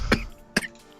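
Two sharp coughs about half a second apart, close and clear, with no talk over them.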